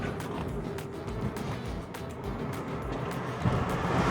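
A Nissan Leaf electric car driving on the road at about 25 mph, a steady low hum of tyre and road noise filling the cabin, with no speech.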